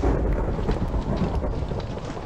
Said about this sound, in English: That is a right thunderstorm, isn't it?